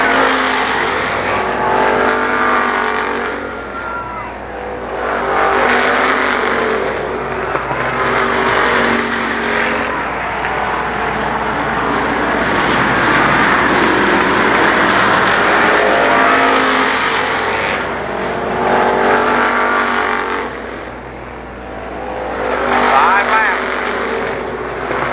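Race cars roaring around the oval at Columbus Motor Speedway, engines rising and falling in loud sustained waves as the pack passes, with an announcer talking over the racing throughout.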